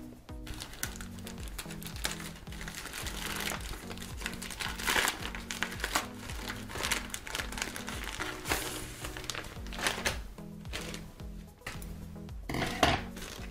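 A children's swimsuit comes out of a plastic parcel bag with crinkling and rustling, uneven handling noises and a few sharper crackles, close and moderately quiet.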